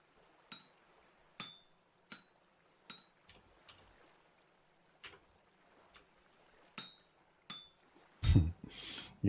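Metal bar being hammered into a chisel on an anvil in the survival game Vintage Story: a series of sharp, ringing clinks at a steady, unhurried pace, moderately near, with a louder, rougher clatter at the end.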